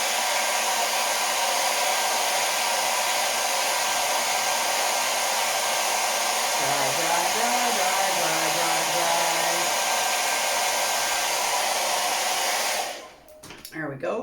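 A hair dryer blows on wet paint on a whimsical cat painting, a loud, steady whooshing roar held for about thirteen seconds before it abruptly switches off, with a brief faint voice beneath the noise.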